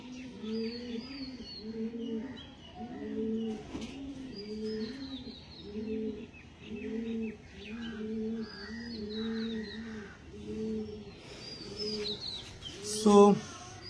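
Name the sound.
Kalshira tippler pigeons cooing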